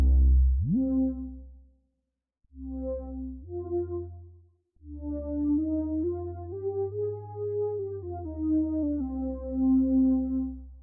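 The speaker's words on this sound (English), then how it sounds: "So the other sound you can hear is this soft lead." Soft synth lead from a Noisemaker preset plays a smooth legato melody of sustained, gently gliding notes with a brief pause between phrases, sounding alone.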